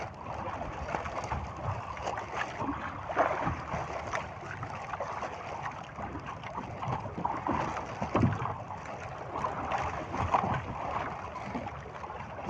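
A small boat motoring through choppy water with big waves, a steady engine drone mixed with broadband splashing and sloshing, with occasional thumps as the hull hits swells.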